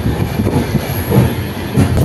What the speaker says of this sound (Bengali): 30 মিনিট লেট করার পর আমাদের ট্রেন এনজিপি থেকে ছেড়ে দিল।